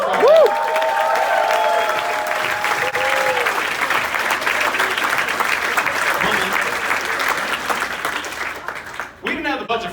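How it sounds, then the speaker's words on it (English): A large crowd at a Hall of Fame induction applauds steadily for about ten seconds, with scattered cheers and voices faintly underneath before the clapping tapers off. "a quick round of applause for all of them"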